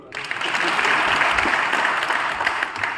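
An audience at a youth conference in an auditorium applauds steadily, a dense, loud wash of clapping sustained throughout.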